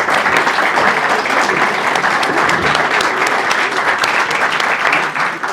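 An audience at a book presentation during a book fair applauds steadily and warmly, with dense, continuous clapping throughout and no voices on top.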